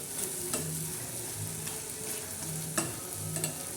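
Okra slit lengthwise and stuffed with ground peanut powder sizzles steadily in a pan, with a near, continuous fry and occasional soft stirring scrapes.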